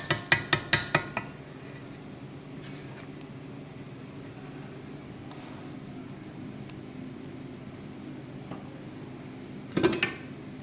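A metal whisk rapped against a hot bowl to knock off sticky nougat gives a quick burst of about six bright, ringing taps. A brief second cluster follows after a quiet stretch.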